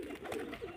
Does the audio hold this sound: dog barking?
no